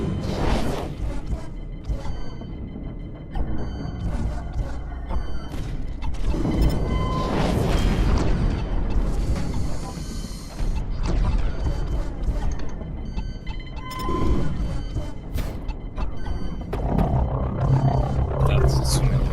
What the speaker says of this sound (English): That's so many cannons.